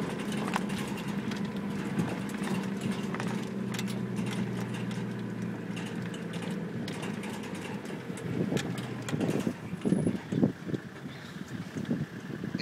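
Old Suzuki driving around a farm, its engine a steady low droning hum with rattles and bumps over rough ground, rushing wind noise throughout, no talking.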